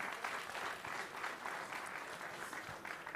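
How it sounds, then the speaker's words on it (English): A crowd at an arm-wrestling event applauds steadily for about three seconds, a dense, even wash of many hands clapping at moderate volume with no break. "Clap your hands, Denis Cyplenkov, everyone."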